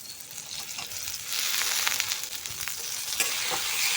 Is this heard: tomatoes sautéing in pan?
yes